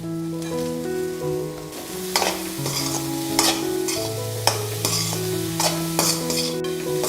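Broad beans sizzle as they stir-fry in a hot pan while a utensil scrapes and stirs with repeated clinks, over soft background music.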